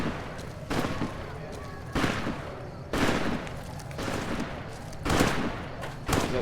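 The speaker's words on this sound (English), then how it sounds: "Oh no, I hear gunshots." Several loud video game gunshot blasts from Fallout: New Vegas in quick succession, about five bursts spread over a few seconds, with echoing tails and background noise between them.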